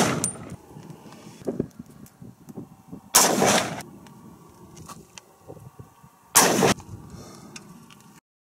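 Unsuppressed 300 Blackout full sonic loads fired through a chronograph outdoors: two loud, sharp gunshots about three seconds apart, each with a brief tail, over faint background rustle.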